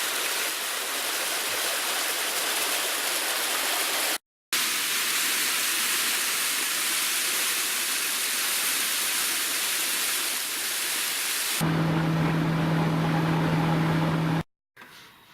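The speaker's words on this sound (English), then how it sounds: "I'm gonna have a look at this waterfall here." Steady broadband rush of a waterfall tumbling down a rock face into Arrow Lake, loud and continuous with two brief cutouts, then a boat engine's low steady drone joins near the end.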